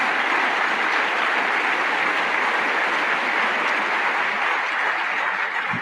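A meeting audience applauds in a dense, sustained wash of clapping that stays steady and loud for several seconds with no pauses.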